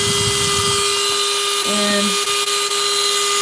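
A small drill bores holes through crinoid fossils with a steady high-pitched whine, its pitch dipping briefly as the bit bites; a voice speaks briefly over it.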